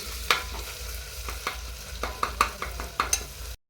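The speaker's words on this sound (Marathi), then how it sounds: "आता ही पेस्ट थोडीशी भाजून घ्यायची" A ginger, garlic, coconut and coriander paste fries in hot oil, a close continuous sizzle punctuated by repeated scraping stirs of a spatula against the pan, with no talking.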